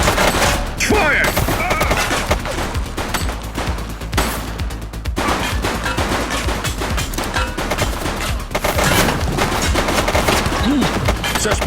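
Dense, continuous gunfire from a shootout in the police game The Precinct crackles in rapid bursts almost without pause, loud and close, with brief shouted voices mixed in.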